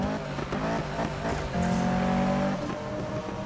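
A car driven in the Need for Speed video game gives a steady engine drone with shifting pitch, heard alone without talk.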